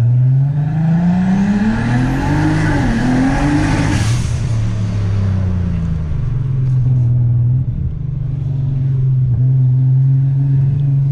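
A 650 hp biturbo Golf R32 MK5 revs hard and pulls away at a car event, its deep engine note rising and falling through several gears before settling into a loud, steady rumble close by.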